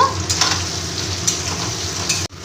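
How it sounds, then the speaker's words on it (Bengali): Chopped onions frying in hot oil tempered with cardamom and cinnamon for chicken kosha, a steady close sizzle with a few light utensil clinks, cut off abruptly near the end. "এবার আমি কুচনো পেঁয়াজ তিনটে ভেজে নেব একটু ভালো করে ভেজে নেব"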